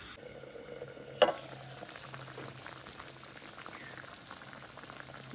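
Hilsa fish curry simmers low on a stove, reducing, with a faint steady bubbling and gentle crackle and one brief knock near the start.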